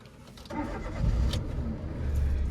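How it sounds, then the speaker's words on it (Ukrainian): A manual-transmission rental car's engine cold-starts in Crete, with a brief cranking whir followed by the engine catching into a steady, low rumbling idle that grows slightly louder. "перший холодний чи не дуже холодний пуск"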